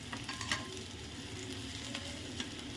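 Chopped small onions (shallots) sauté in a pan for a Tamil lentil-dumpling curry, making a soft, even sizzle with a few light stirring clicks. The sound is quiet and close, with no talking.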